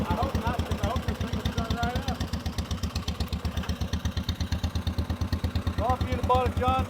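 A Massey Harris tractor's little 4-cylinder flathead engine idles close by with a steady, even low chugging pulse, while people talk over it.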